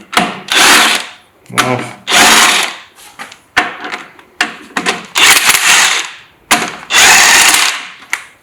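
Air impact gun loosening engine bolts on a vintage Ferguson FE35 tractor, several loud, close, rattling bursts of about half a second to a second each, separated by short pauses, with a brief word spoken.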